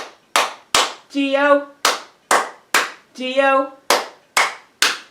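Sharp hand claps keep a steady beat in a children's storytime singalong of the Bingo song, with three claps in each bar and the spelled letters sung between them. Several crisp claps sound close and loud, alternating with short sung phrases.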